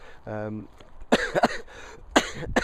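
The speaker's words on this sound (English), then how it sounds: "I'll try not to cough too much through this." A few short coughs close to the mic, mixed with brief bits of throat noise and a faint hum, with quiet pauses between them.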